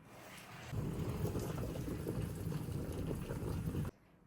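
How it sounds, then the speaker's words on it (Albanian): Water rolls at a steady boil around pickle jars in a pot on the stove, a dense continuous bubbling hiss that runs for a few seconds before cutting off abruptly. "E lën dikon rreth 25 minuta që të vloj uji."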